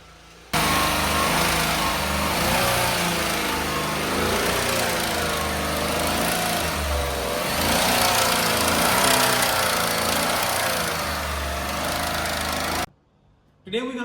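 A blown GMC engine, pouring white smoke, revs hard under acceleration with a loud, rough, steady roar that holds for about twelve seconds and then cuts off abruptly.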